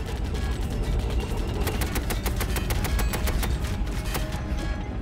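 Sustained rapid gunfire as WWI soldiers open fire on an approaching tank, dense machine-gun bursts rattling continuously and loudly for several seconds.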